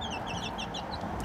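A young chick in a farmyard with chickens and ducks gives a rapid series of thin, high cheeps and clucks close by over soft background noise.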